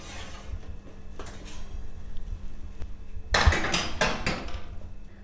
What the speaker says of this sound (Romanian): După 30 de minute cartofii s-au gratinat frumos, așa că îi vom scoate de la cuptor.